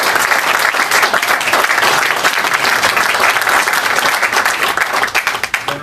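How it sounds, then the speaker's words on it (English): Audience applause after a talk, dense sustained clapping from many hands filling the room at steady loudness for several seconds, tapering slightly at the end. "Let's give a big round of applause."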